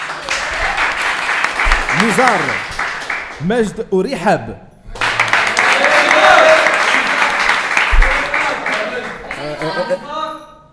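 Studio audience bursts into loud applause and cheering at a televised Casablanca battle show, sustained clapping from a crowd, with a host speaking over the start and the clapping fading at the end.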